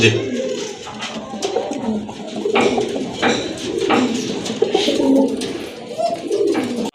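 Black-and-white Sirazi pigeons coo in repeated soft, low throaty calls close by, with light clatter and faint background activity.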